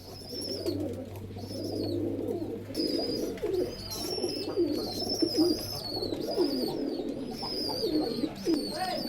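Pigeons of a fancy breed coo in steady, overlapping low phrases close by, with a sharper chirping bird audible above them and a faint background hum; no speech.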